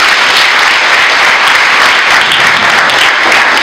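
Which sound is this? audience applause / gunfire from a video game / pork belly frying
audience applause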